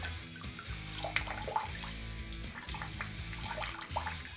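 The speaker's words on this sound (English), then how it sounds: "I've got my handy dandy shave bowl, Simpson synthetic T3 knot. I'm just gonna dip that in the water." A Simpson synthetic T3-knot shaving brush dips into water in a shave bowl, giving soft continuous splashing and trickling close by, with a few brief drips standing out.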